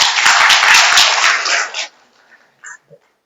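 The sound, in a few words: audience clapping for a child at a religious talk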